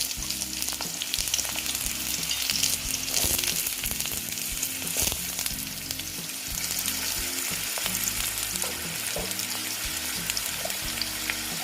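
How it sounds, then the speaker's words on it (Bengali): Potato pieces fry in hot oil in a wok, giving a steady, fairly quiet sizzle with occasional stirring and scraping sounds throughout and no speech. "কড়াতে তেল গরম হয়ে গেছে এবার আমি আলুটা দিয়ে দিলাম আলুটা ভেজে নেব"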